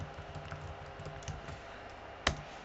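Keys on a computer keyboard click quietly as a terminal command is typed, a short run of soft taps ending in one sharper keystroke.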